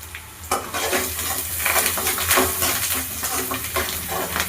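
Fennel seeds sizzle in hot oil while tempering for chana masala, a steady close crackle with metallic spoon-and-pan clinks as they are stirred.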